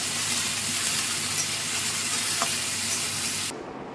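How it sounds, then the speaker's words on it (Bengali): Potatoes sizzle in hot oil tempered with panch phoron, a steady broadband hiss that runs unbroken for several seconds and then drops off abruptly near the end. "5 ফোড়ন দিয়ে আলুগুলো আগে একটু ভেজে নিই।"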